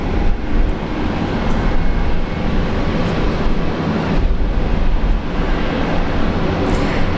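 A Hawaiian Airlines Boeing 787 Dreamliner passes at Brisbane International Airport in heavy rain, a loud, broad, continuous jet roar that stays steady and close throughout.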